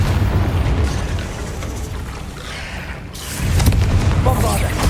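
A Confringo fire-blast spell goes off in the game Hogwarts Legacy, a heavy rumbling boom filling the low end, easing off, then surging again with a second deep blast and crackling debris.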